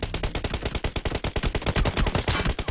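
Rapid automatic gunfire in PUBG Mobile, a dense run of sharp shots in quick rhythm, loud and close, continuing for a few seconds with no talk over it.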